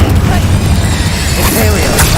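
Rapid spell blasts from Hogwarts Legacy, a chain of booming bursts, crackles and shattering impacts packed closely together over dense, continuous game noise, with some speech-like sound mixed in.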